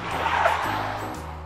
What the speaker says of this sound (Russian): Машина. Этот звук я узнаю из тысячи.